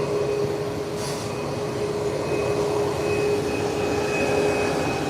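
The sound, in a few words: British Airways 777 airliner taking off and climbing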